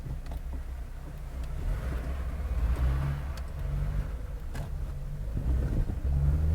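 A car engine rumbles low and steady at close range as it moves slowly, its murmur rising gently toward the end with no one talking.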